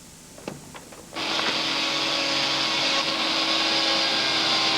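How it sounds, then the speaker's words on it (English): A few light clicks lead into an industrial-type vacuum cleaner switching on, after which its loud, steady roaring whine runs alone at close range. "An industrial-type vacuum cleaner is most suitable."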